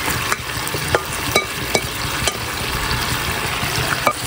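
Squid goes into a pan of thickened, sizzling adobo sauce, a strong steady sizzle broken by a few sharp clinks and scrapes of a utensil against the pan, with no talking.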